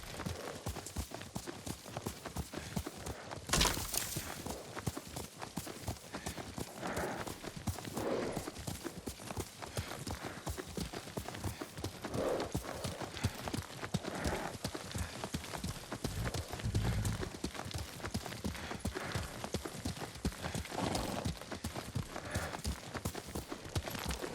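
Horse hooves clip-clop steadily while riding in the Ghost of Tsushima video game, a continuous even rhythm with a louder hit near the start and faint background game ambience, no talk.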